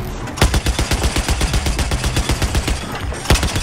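Bursts of a mounted machine gun in Battlefield 4 hammer out in loud, rapid strings of shots, with a heavier blast near the start and another near the end.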